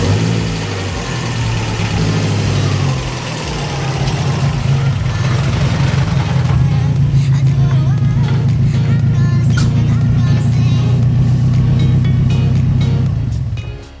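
A car idles and creeps slowly out of a garage, its steady low engine hum holding close and loud for the whole stretch before cutting off at the end.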